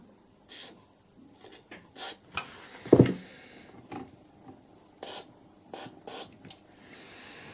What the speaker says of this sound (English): I'm hoping that this switch cleaner is going to go in there